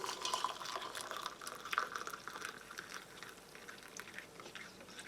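Hot water pours and trickles softly into a mug, a faint continuous liquid splash with light bubbling.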